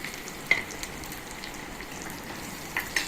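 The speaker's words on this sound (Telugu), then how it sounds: "ఇది మనం పోపు పెట్టుకుంటున్నాం పప్పులోకి" Onions and spices fry in oil as a tempering for dal, giving a low, steady sizzle with a few sharp pops and crackles scattered throughout and no voices.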